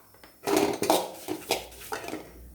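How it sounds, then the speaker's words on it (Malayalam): A spoon scrapes and clatters against a pan as grated coconut with coriander powder is stirred and roasted for a Kerala shallot theeyal. The metallic scraping comes in several close, irregular strokes, with no talking. "അതുവരെ ഇങ്ങനെ നമ്മൾ അത് മൂപ്പിച്ചുകൊണ്ടിരിക്കണം, കൈമാറ്റാതെ ഇളക്കിക്കൊണ്ടിരിക്കണം."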